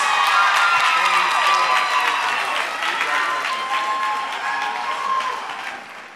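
An audience at a youth dance competition's nationals applauds the dancers, with loud dense clapping and some cheering and children's shouts, tapering slightly toward the end.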